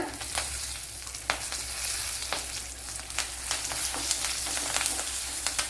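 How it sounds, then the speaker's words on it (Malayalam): Curry leaves dropped into hot oil with asafoetida sizzle and crackle steadily, with scattered sharp pops over a continuous frying hiss, close and even in level. "ഇനി ഇതിലേക്ക് കുറച്ച് കറി ലീവ്സ് ഇട്ട് കൊടുക്കുക"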